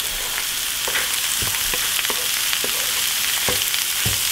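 Ground meat frying in a pan with olive oil, onion and celery, giving a steady dense sizzle with occasional spoon scrapes and knocks, close and even, with no speech.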